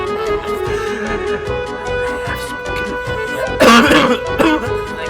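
A person coughs and clears their throat close up, a short rough burst standing out over a faint steady background hum.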